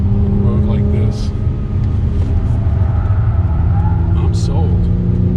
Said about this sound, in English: I can live with a little bit louder engine noise if it means you can have this kind of fun on a road like this.